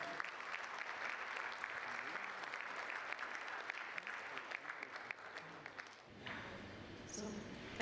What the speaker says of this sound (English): can we welcome her with a huge round of applause?